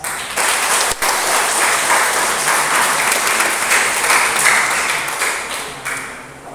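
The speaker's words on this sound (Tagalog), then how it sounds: "pumalakpak ng malakas." Loud, sustained applause from a crowd at a church prayer meeting, a dense steady wash of clapping that holds for several seconds with no talk over it.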